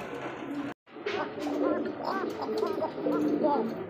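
A pair of Koka pigeons, a male and a female, call together in repeated low cooing phrases close by, with a person talking over them.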